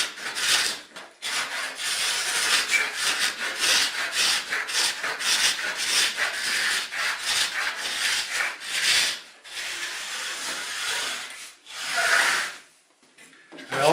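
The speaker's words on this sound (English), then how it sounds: "I alternate between pushing and pulling the scraper depending on the direction of the grain in the wood." Hand scraper worked over a pine baseboard profile in short, firm push and pull strokes, a steady run of close, loud rasping scrapes with brief pauses and no talk.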